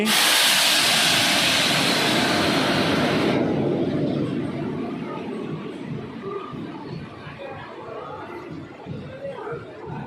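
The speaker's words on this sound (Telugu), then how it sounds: "ప్లాట్ఫామ్ నెంబర్ 3 దగ్గరికి కాకతీయ ఎక్స్ప్రెస్ అయితే వచ్చేసింది." A loud hiss of air brakes fills the first few seconds as the Kakatiya Express pulls into platform 3 at Charlapalli station, India, then gives way to rumbling and crowd chatter on the platform.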